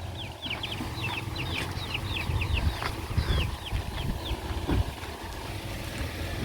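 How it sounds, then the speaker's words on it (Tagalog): Chickens clucking and squawking in a rapid series of short calls, fairly close and continuous over a low outdoor background. "Mga manok."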